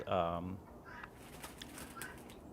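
A guinea fowl named Wendy calls with a short burst of harsh, rapid cackling notes near the start, loud and close, then fades into quiet background murmur.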